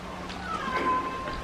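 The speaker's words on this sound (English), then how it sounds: "there's a cat somewhere" A cat meows once, a thin rising and falling cry heard faintly at some distance outside a pool villa room in Chiang Mai, Thailand, over quiet background ambience.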